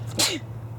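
A single sharp human sneeze bursts out in a quiet indoor room over a steady low hum, brief and close, followed by quiet.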